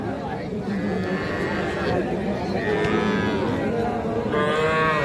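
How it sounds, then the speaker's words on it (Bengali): Young heifer calves at Raniganj cattle market moo in long, loud, drawn-out calls over a dense, constant crowd murmur and livestock din. "এগুলা কিন্তু বকনা বাছুর ছিল"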